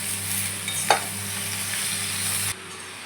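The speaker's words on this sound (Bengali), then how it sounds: "এবার এটাকে আবার ভাজা ভাজা করা হবে" Vegetables frying in a pan with salt and turmeric, a steady close sizzle with a sharp stirring scrape near the start before the sound cuts off near the end.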